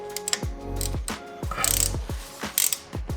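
A hex Allen ratchet tightening a bolt on a Ducati Monster S2R motorcycle during an oil change, with close, crisp clicking in short bursts of repeated pawl ticks and brief pauses between strokes.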